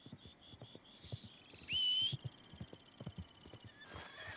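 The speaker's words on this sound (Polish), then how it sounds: "Koń, kurde!" A horse in the Red Dead Redemption 2 video game clip-clops along with steady, even hoofbeats, then lets out a brief high whinny midway, with faint ambient game sounds and a whistle-like tone in the background.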